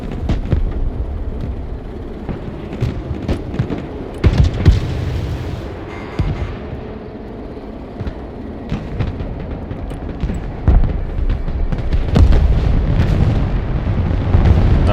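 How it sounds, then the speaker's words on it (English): Artillery strikes explode one after another in the video game Broken Arrow: loud, deep booms that bunch into bursts around the middle and the end, over a constant rumble of battle. "Let's just make sure we're getting the artillery down there."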